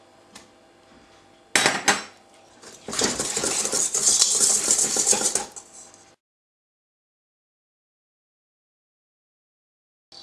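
Chocolate fondant batter being stirred with flour in a bowl, a sharp clatter of a utensil followed by a few seconds of steady scraping and clinking, close and moderately loud, then silence.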